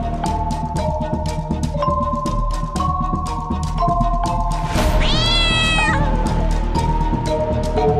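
In a Hindi TV drama scene, a cat gives one loud, rising-and-falling meow partway through, over steady background music.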